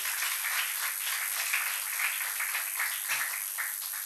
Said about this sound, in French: Alors un tonnerre d'applaudissements pour Laurence.